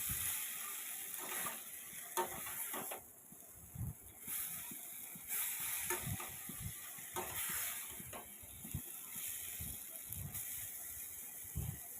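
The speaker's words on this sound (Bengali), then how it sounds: "মশলার সঙ্গে আলু আর সয়াবিনটাকে একটু সময় ধরে ভালো করে কষিয়ে নেব।" Potatoes and soybean chunks are sautéed with spices in a pan over a low gas flame, making a soft, quiet sizzle broken by intermittent stirring scrapes and knocks.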